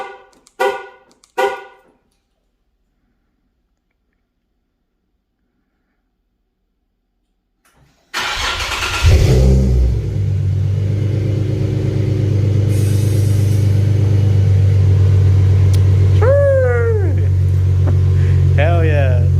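A Nissan 370Z engine fires up by remote start after a stretch of silence, catching with a loud cranking burst and then settling into a steady, deep idle rumble. Brief talk comes before the start and a voice is heard over the idle.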